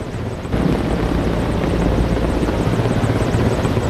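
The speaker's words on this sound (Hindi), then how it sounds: "फिर आसमान में त्रिशूल फॉर्मेशन बना रहे हेलीकॉप्टर की गड़गड़ाहट होगी।" Indian Air Force helicopters flying in formation in a flypast roar overhead, a steady, loud rotor thrum with rhythmic blade chop that holds throughout.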